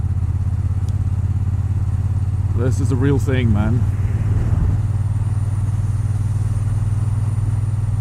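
A Triumph Bonneville T120 Black motorcycle's exhaust drones steadily at a low pitch while riding, a constant rumble running the whole time beneath a man's brief speech.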